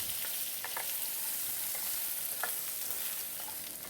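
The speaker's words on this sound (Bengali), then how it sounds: "আমি সব সবজিগুলোকে একসাথে ফোড়নের সাথে দিয়ে খুব ভালো করে ভেজে নেব।" Mixed vegetables for a pumpkin curry fry with tempering spices in hot oil, a steady close sizzle broken by several sharp scrapes of stirring.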